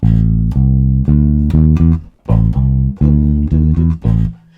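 Electric bass plays a full bass line alone, a bouncing run of short, punchy low notes in repeated two-bar phrases with brief gaps between them, close and loud.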